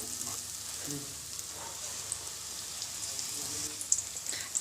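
Battered ridge gourd bonda frying in oil over a medium gas flame: a quiet, steady hiss and crackle of sizzling batter, with a few soft pops and no talking.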